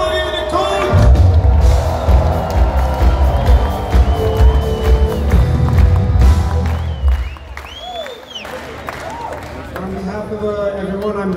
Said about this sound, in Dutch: Maak een applaus, Tim!